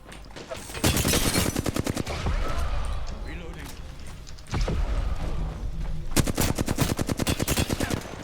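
Rapid automatic gunfire in the Apex Legends battle royale, with close, loud bursts of fast shots and a short pause midway before firing resumes, while a player speaks over the action.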